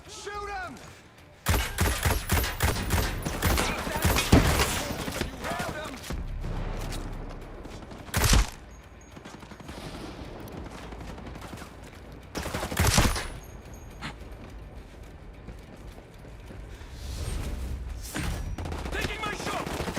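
Rapid bursts of gunfire and fusillades from the video game Ghost Recon Breakpoint played on Xbox, loud and repeated, with several heavy booming shots, and a player's voice in between.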